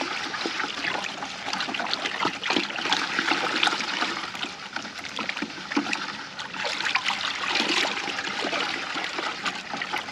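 Fertilizer stirred into warm water in a container: continuous sloshing and swirling water with splashy surges, close and steady throughout with no voices.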